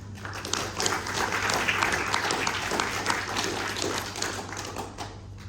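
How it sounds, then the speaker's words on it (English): An audience claps for Dr. Adolf Peretti, founder of GRS, at a gemstone talk: moderate, fairly even applause heard at some distance, rising after a brief start and tapering near the end over a low steady hum. "please give a big round of applause to Dr. Peretti."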